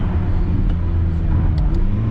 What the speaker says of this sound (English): Look, quick downshift, quick downshift.